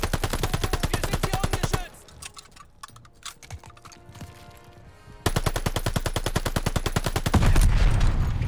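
Rapid automatic gunfire from the video game Call of Duty: Vanguard rattles in loud, dense bursts, breaks into a quieter patch of scattered shots and clatter, then resumes just as hard.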